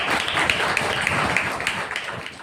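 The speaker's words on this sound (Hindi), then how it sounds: "आइए जोरदार तालियों के द्वारा पवित्र आत्मा का स्वागत करें।" A church congregation at a Sunday service applauds loudly and continuously, with dense, steady clapping throughout.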